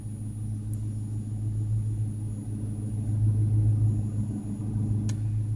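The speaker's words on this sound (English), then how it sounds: "Just decided to turn my car on." A 2015 Dodge Charger R/T sits idling after being started, its engine giving a steady, low, even rumble that holds for several seconds with a slight swell midway and no speech over it.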